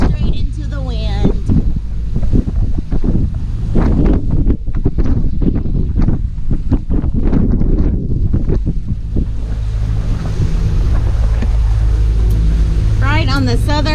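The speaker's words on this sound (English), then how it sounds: "We are motoring pretty much straight into the wind" Strong wind roars across the microphone of a sailboat motoring straight into the wind off the southern tip of Grenada, with engine rumble and water noise underneath and a steady, loud gusting throughout.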